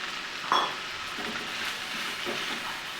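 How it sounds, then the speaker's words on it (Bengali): Ginger-garlic paste and chopped tomato sauté in a pan for a chicken curry, a steady moderate sizzle with a brief sharp clatter near the start and soft stirring afterward. "সাত থেকে আট মিনিট আমি এটাকে কিন্তু ভালোভাবে কিন্তু একদম কষাবো"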